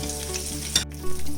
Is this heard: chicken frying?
yes